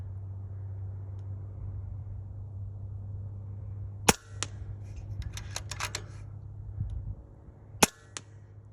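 Two sharp, loud air rifle shots from an FX Impact Mark 3 at a shooting range, spaced a few seconds apart, each followed by faint clatter, over a steady low hum.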